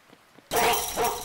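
A dog in a video game barks suddenly after a near-silent moment, two loud close yelping barks in quick succession.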